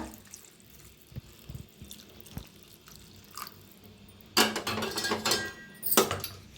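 After some quiet clinks, hot water is poured into a pan in a loud splashing stream, stopping briefly, then pouring again.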